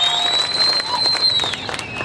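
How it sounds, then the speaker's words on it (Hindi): Audience applause at a public speech event in Pune: dense, steady clapping and crowd noise from many hands, with a faint whistle-like tone running through it. "ताली बजाओ इनके नाम पे"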